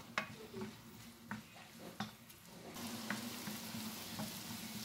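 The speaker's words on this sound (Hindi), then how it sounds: "ऑनियन को हमने ब्राउन नहीं करना है, हाई फ्लेम के ऊपर इसको 2 से 3 मिनट पकाना है।" Onions fry on a high flame in a pan, a soft, steady sizzle with occasional clinks and scrapes of stirring, faint and close.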